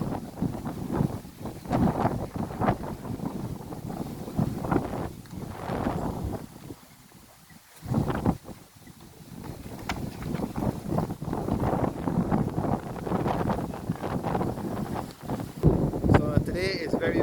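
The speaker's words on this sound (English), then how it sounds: "Today is very windy up here, as is usual around this time of the year." Strong wind gusts across an exposed hilltop, buffeting the microphone with a loud, continuous low rumble that swells and eases, briefly dropping away near the middle before returning.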